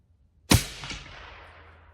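A suppressed rifle shot fired at a target: one sharp crack, then a faint echo about half a second later, decaying slowly into quiet outdoor air.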